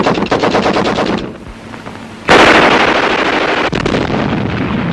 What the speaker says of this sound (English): Machine gun bullets search for any seeking escape